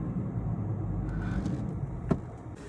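A car being parked outside on the street gives off a faint, steady low engine rumble throughout, with a brief soft knock near the end.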